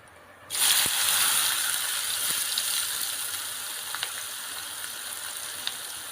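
Onions go into hot oil with a sudden loud sizzle that holds steady and close, slowly easing, with a few tiny crackles along the way.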